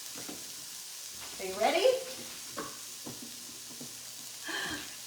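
Vegetables sweat in a pan with a quiet, steady sizzle, while a person speaks briefly over it and a few soft clinks and bumps come and go.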